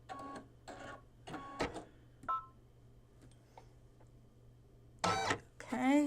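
Computerized embroidery machine stitching one pass around an appliqué outline for a mug rug, short bursts of rapid mechanical whirring and chattering separated by pauses, close and fairly quiet over a steady low hum.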